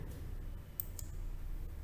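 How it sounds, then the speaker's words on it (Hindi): Clicks from a computer mouse during a Google Ads setup session: two or three faint, sharp clicks close together, set against low background noise with no voices. "क्या गलत जगह क्लिक हुआ हमसे"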